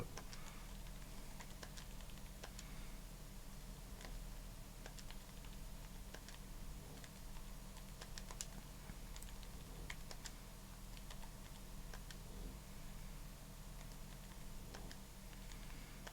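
Faint, steady keyboard typing of a search runs continuously as soft clustered key taps over a low background hum, with no voices.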